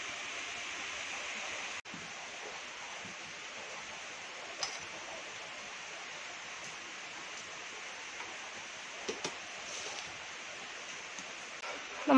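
A long stretch of heavy outdoor rain makes a faint, constant hiss. Scattered soft ticks and taps come through it, and a sudden drop in level happens early on.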